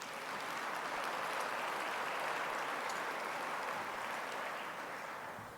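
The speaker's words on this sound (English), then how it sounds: "That's worth an applause round," Audience applause fills a hall during an agricultural address, a steady broadband wash of clapping that holds at even strength throughout and tapers slightly at the end.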